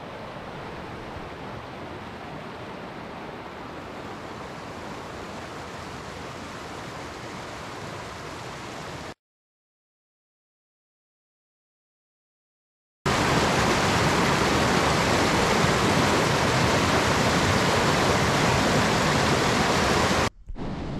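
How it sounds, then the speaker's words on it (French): A waterfall cascades over rocks on a trout-fishing outing, a dense steady roar heard in two stretches separated by a few seconds of silence, the second stretch louder and closer. "monté les cascades, les écouter encore plus près. Ces vagues qui tombent, ce courant qui descend"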